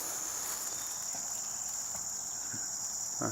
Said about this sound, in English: You can hear all the crickets and bugs.